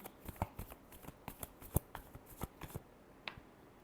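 Tarot cards being shuffled by hand, a rapid run of crisp flicking riffles with sharp irregular clicks, close and fairly quiet.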